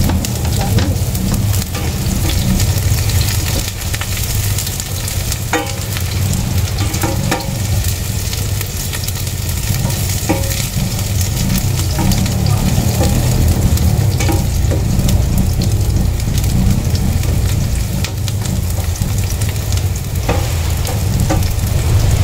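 Onions sauté in a pan for squash with sardines, giving a continuous close sizzling and frying hiss with occasional small clicks of stirring throughout.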